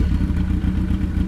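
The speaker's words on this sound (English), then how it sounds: "Pop that wheelie, Laura." Motorcycle engine in the Tomb Raider video game, a steady, loud, rumbling low drone with a slightly rough, fluttering texture running throughout, no voices.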